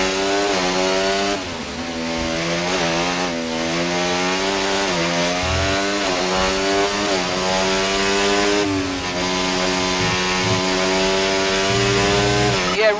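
An F1 car engine in the F1 24 racing game screams at high pitch with rising and falling gear changes, loud and continuous throughout.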